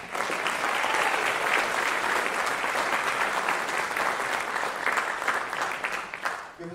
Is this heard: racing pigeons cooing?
no